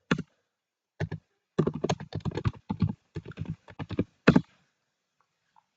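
Typing a terminal command on a computer keyboard: close, crisp key clicks in short irregular bursts separated by pauses, ending in quiet.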